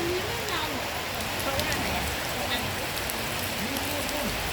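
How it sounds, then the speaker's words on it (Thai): Heavy rain pours down steadily at Khao Kheow Open Zoo in Chonburi, Thailand, a dense, continuous hiss of drops close to the microphone, with a voice talking over it. "ฝนตกแรงมาก เห็นไหม"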